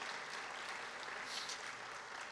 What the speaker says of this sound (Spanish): Denle un fuerte aplauso a la presencia de Dios